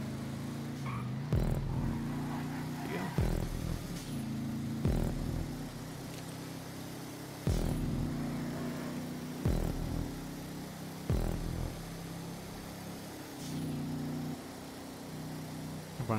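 A car engine drones steadily through a drifting race in GTA 5, with a sharp rev spike or impact every couple of seconds and no talking.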